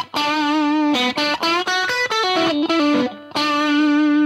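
An electric guitar plays a lead solo through a distorted tone with heavy reverb, sustained bent notes mixed with quick runs, loud and alone.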